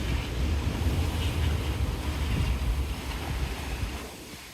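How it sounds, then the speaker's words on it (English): Wind off the west coast of Vancouver Island blows in a steady, blustery rush across the microphone, fading slightly toward the end, with no voices over it. "Got a little windy."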